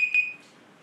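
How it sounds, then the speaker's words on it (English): A timer alarm gives off one short, clear electronic beep that fades away within a fraction of a second. "The timer that you put."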